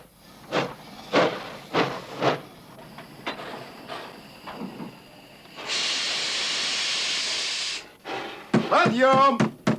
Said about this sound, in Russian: Точно поезд.